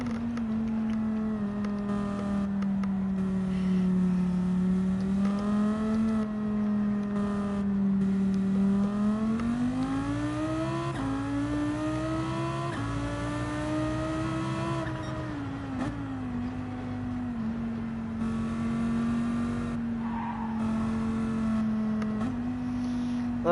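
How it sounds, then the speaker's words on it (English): Lamborghini Huracán race car engine in Gran Turismo 7: a steady, loud droning engine note that climbs and falls as revs change across a long stretch, heard alone without talk. "Tonight we are driving a Lamborghini Hurricane."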